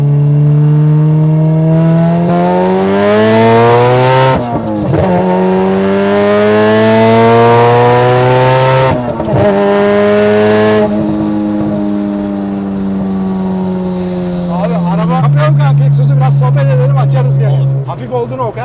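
Turbocharged Honda Civic 1.6 VTi accelerating hard, its loud, close engine note climbing steadily in pitch through the revs, with two gear shifts that briefly drop the tone before it rises again.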